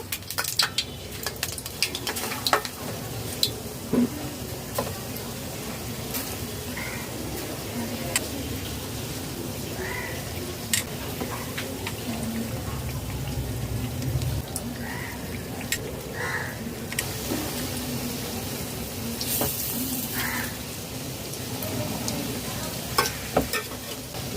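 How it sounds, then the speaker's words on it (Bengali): Raw banana koftas fry in white oil in a pan, a steady close sizzle and crackle running throughout with occasional stirring clinks and faint birds in the background. "কোপ্তাগুলো ভেজে নেব"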